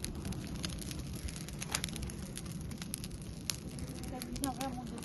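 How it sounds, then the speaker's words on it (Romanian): A low, steady fire crackles with scattered small pops and snaps over a soft rushing hiss. Fairly quiet throughout. "Îți place, Albina, focul?"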